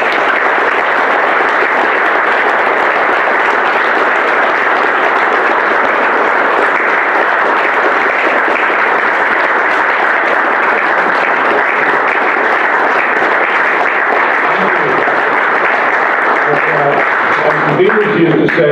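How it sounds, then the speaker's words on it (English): Sustained applause from a large audience at a California Libertarian Party convention, steady and dense throughout, with faint voices emerging near the end. "round of applause, please."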